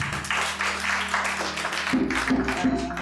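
Applause from a gathered audience at an outdoor farming equipment hand-over ceremony, a brief burst of clapping of moderate loudness, with music and voices underneath.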